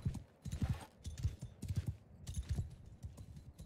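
Horses galloping in the medieval combat game Mount & Blade II: Bannerlord, a steady rhythmic clatter of many hooves drumming close and loud for several seconds without speech.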